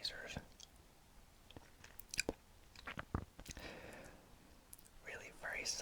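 Maltesers chocolate balls with airy honeycomb centres are bitten and crunched right at the mic, sharp crisp cracks scattered between soft whispered speech and wet chewing.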